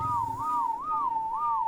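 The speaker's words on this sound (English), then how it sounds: "what's another minute and a half of whistling" Repeated wavering whistle tune used to tame compys in ARK: Survival Evolved, a clear looping melody of rising and falling notes that cycles about three times, alone and fairly loud.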